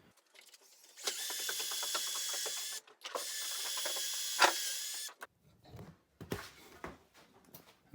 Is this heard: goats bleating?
no